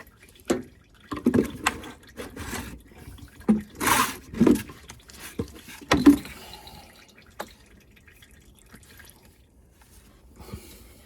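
Transmission oil draining from a transfer case on a 4th-gen Ram Cummins into a catch pan, making irregular soft splashes and trickling drips, quiet and close in an otherwise still space.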